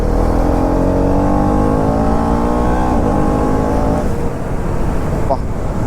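Motorcycle engine accelerating on a busy city road near a hospital, its pitch rising in steady harmonic sweeps, loud and close throughout, with a brief shift in tone near the end.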